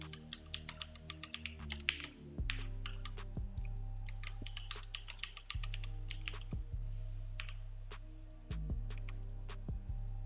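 A root password is keyed in on a computer keyboard, with a close run of crisp key clicks in bursts and short pauses over a low steady hum, and no voices.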